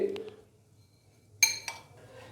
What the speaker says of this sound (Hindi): तो अभी इन सारे मसालों को अच्छे से मिक्स करेंगे।